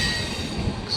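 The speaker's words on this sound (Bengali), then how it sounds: "ট্রেন এখন ঢুকছে আমাদের ভুবনেশ্বর স্টেশনে" A MEMU train rolls into Bhubaneswar station, its wheels squealing with high metallic whines over a steady rumbling of rolling cars, close and loud throughout, with no talk.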